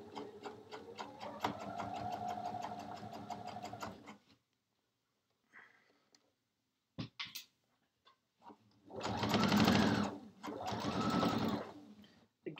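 A sewing machine sews down thick quilt binding in short runs of rapid mechanical stitching, close, with pauses, a few handling clicks and a voice speaking over part of it.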